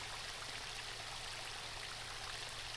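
A waterfall in World of Warcraft rushes in a constant, even roar of falling water, moderately loud and steady with no voices.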